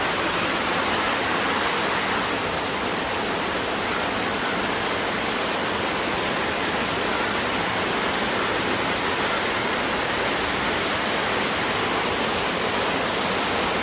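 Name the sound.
heavy rain falling outside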